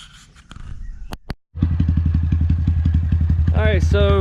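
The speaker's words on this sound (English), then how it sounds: "bike's running, everything seems to be pretty good" A Honda Grom motorcycle, freshly fitted with a new cam and with its valves adjusted, clatters and thumps before starting, then runs with a close, steady, throbbing idle as someone talks over it.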